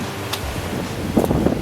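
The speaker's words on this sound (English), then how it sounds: "Oh my gosh, it's gotten really windy here." Strong wind blows across an open-pit copper mine in Ajo, Arizona, a constant rough rumble buffeting the microphone, with a brief gustier rustle near the end.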